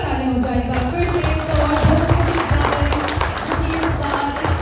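Loud audience applause at a Bhojpuri film team press conference, a crowd clapping hard with dense overlapping claps and murmuring voices under it.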